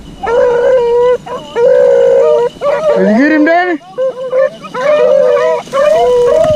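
Rabbit-hunting dogs in a Kansas field howl and bay loudly while chasing a rabbit, with several overlapping rising and falling howls and yips close by. A person speaks briefly over the dogs.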